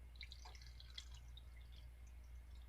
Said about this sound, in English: Pour your water into the pan